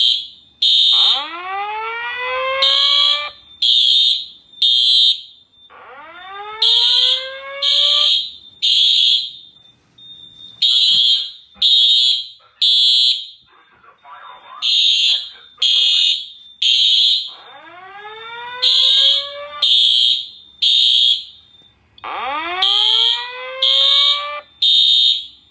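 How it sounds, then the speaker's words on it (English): Simplex fire alarm system sounding in a building: loud repeating bursts of high electronic horn tones alternate with a rising whooping tone, cycling steadily throughout, with a recorded voice announcement woven between the tone groups. "This is a fire alarm."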